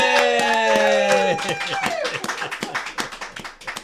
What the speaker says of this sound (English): he's clapping for himself.